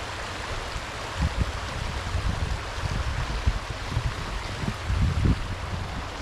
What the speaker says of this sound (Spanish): Y vamos a mostrar el río acá.